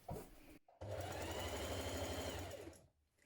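A sewing machine stitches steadily around a dress neckline, a continuous close whirring run of rapid needle strokes that starts after a brief pause and stops near the end.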